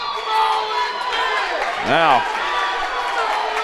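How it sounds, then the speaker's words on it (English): A big crowd roars and cheers in an indoor gym during a high school wrestling match, a steady loud wash of voices throughout, with a commentator talking over it. "you hear the crowd getting into it, and it is a big crowd here on hand tonight at the Trojan facility"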